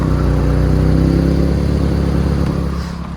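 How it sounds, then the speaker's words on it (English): An older Nissan Sentra idles with a deep, throbbing exhaust rumble from a silencer box with two small holes, steady and close before easing off slightly at the end. "The one silencer box under the car has got two little holes in it,"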